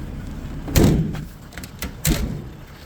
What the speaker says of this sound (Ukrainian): відкриваємо задні дверцята